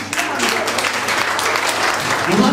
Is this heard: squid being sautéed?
no